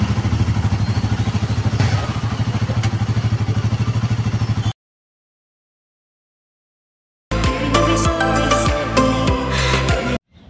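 A Royal Enfield Himalayan 450 motorcycle engine runs with a steady, loud mid-pitched drone for several seconds, then cuts to silence before other clattering, tonal sounds come in.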